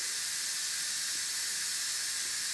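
A pressure cooker valve vents steam in a steady, loud, unbroken hiss while chicken soup cooks, with no voices over it.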